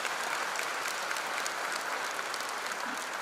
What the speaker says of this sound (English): Please give him a big applause.